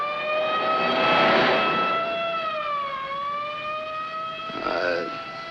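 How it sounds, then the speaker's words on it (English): An ambulance siren in a 1951 film noir wails loudly with a slowly rising and falling pitch that sweeps down and back up over several seconds. "It's an ambulance."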